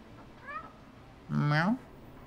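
A cat meows in the video game Stray, one clear rising and falling meow in the middle, preceded by a fainter, shorter mew, against a low steady game background.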